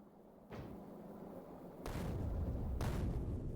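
Booming blasts in a rocket-launch ship rescue game, two heavy broadband bursts rumbling out in succession at moderate loudness, with no talk over them.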